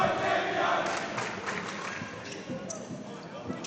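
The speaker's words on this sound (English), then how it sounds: "If he makes this free throw here, this crowd's going to go nuts here." Basketball crowd at a college game, Penn vs Concord, roaring steadily around a free throw, with dense broadband cheering that swells and dips under a commentator's voice.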